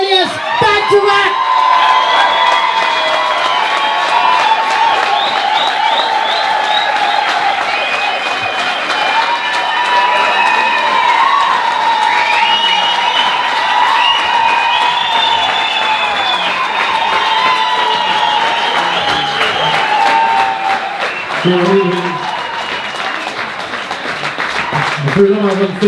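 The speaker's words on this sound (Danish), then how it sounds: "giv et stort bifald" A large concert crowd applauds, cheers and whistles continuously as the band takes the stage, loud and sustained, with shouts and whoops throughout.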